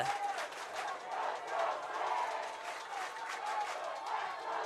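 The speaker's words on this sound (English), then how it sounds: "The crowd is loud." Crowd noise at a CIF Southern Section Division 3 boys lacrosse championship game with Santa Monica, a steady loud roar of cheering and shouting that swells and dips slightly and carries on throughout.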